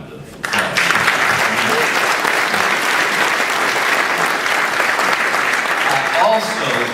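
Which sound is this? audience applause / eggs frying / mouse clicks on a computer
audience applause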